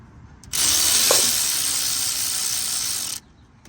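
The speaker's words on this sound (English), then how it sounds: "notice I'm not just tightening them in a 1, 2, 3, 4 sequence" A ratchet wrench on a GM 5.3L V8 tightens the valve cover bolts in a single loud, continuous buzzing pull lasting under three seconds, close up and with no talking.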